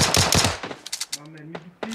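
Automatic rifle fire in the PUBG video game on the Miramar desert map, a loud rapid burst of shots at the start followed by a few scattered cracks and echoes, with brief voices and tones around it.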